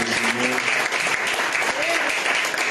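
A church congregation applauds to acclaim the Lord at a French-language seminar, a dense, steady wash of clapping from a large crowd with voices mixed in underneath.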